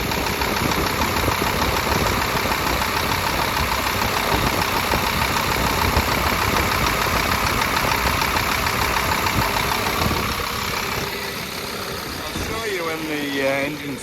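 The diesel engine of a DX10 machine idles nearby, droning loud and constant with a steady mechanical rattle. It drops to a quieter hum near the end.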